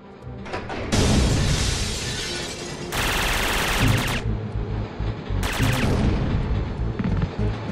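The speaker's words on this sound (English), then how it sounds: "just felt the explosion" Explosions and heavy gunfire burst out in the 2001 PS1 action game Syphon Filter 3, loud and crashing in several blasts across the clip, with dense rumbling noise between them.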